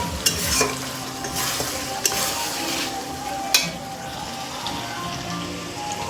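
Meat being kosha stir-fried in a pan, a steady close sizzle with scraping stirs and a few sharp clinks of the spatula against the pan.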